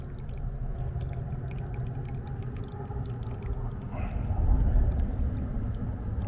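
Water drains through a freshly cracked valve at the bottom of a shop-built 1,000-gallon crude oil tank, a steady close rushing trickle that swells briefly near the end.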